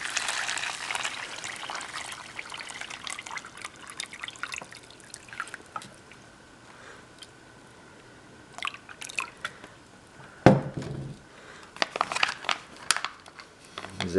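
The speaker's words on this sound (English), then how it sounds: "we're just gonna fill her up to the top of the fill line with water" Water trickling and dripping into a Canadian IMP chicken and vegetable stew meal pouch, a soft close pour with scattered drips and a louder splash burst near the end.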